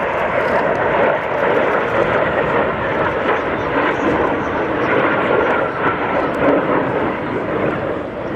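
A military jet makes a flyby at the Royal International Air Tattoo airshow in 2014, a loud, continuous roar that holds steady throughout with broad noise and no clear passing peak, while an announcer's voice runs faintly underneath.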